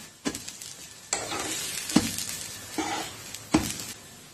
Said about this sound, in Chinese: 掀开看看翻翻面，哎呀，烙得黄澄澄的